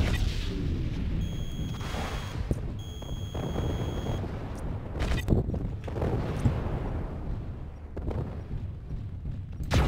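Mech weapons firing in MechWarrior Living Legends on a desert map, with repeated bursts and blasts over a constant low rumble, plus intermittent electronic beeping tones, all fairly loud and near.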